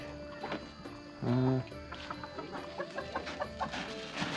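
Chickens kept at a rural Lao village home cluck intermittently, with one louder, closer cluck standing out amid scattered softer calls and faint background bustle.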